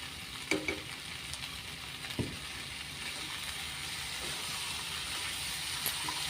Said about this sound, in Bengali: এই মশলাটা যখন তেল ছেড়ে কষিয়ে আসছে, তখন আমি এখানে 1/2 চামচ মতন ঘি দিয়ে দিচ্ছি